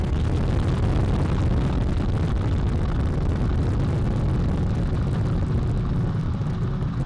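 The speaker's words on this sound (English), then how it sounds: "All 4 RS-25 engines on the core stage and 2 solid rocket boosters now propelling the vehicle at 128 miles per hour" The Artemis I rocket launch roars with its four RS-25 core stage engines and two solid rocket boosters, a dense, loud, unbroken rumble that holds steady for the whole stretch with no voices over it.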